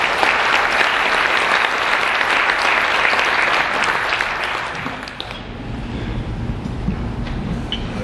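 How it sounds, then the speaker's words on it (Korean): Audience applause at a ceremony celebrating an advertising executive's 40-year career, a dense, loud clapping crowd that fills the first five seconds and then thins to scattered claps. "큰 박수로 맞아주시면 감사합니다."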